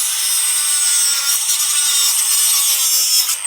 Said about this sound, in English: obviously you could cut PVC.